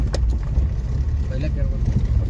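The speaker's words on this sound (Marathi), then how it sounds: "चढण तर गाडी चढते." A safari vehicle climbs a slope on a jungle track in Karwa, its engine giving a low, steady rumble close by while people talk over it.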